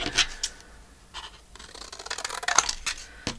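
Scissors snipping through paper while making journal ephemera at a desk, a few short crisp cuts and rustles at close range, quiet with pauses between.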